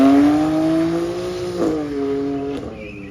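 A car engine revs at a wet Four Pipes breakfast run, steady harmonic drone rising slightly then falling away, fairly close and loud with no talk.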